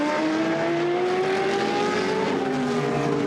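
GT race cars at Misano power toward the final corner and the line, engines loud and close with rising, revving tones sliding upward as they accelerate, a continuous roar with no speech.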